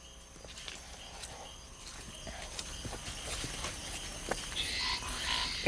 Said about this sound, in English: It sounds like we're going to get attacked by wild frogs